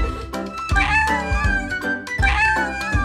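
Cartoon kittens meow repeatedly in bright, tonal cries, with several overlapping calls filling the whole stretch at close range.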